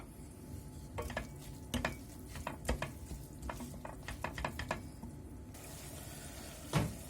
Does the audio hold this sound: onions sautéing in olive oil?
yes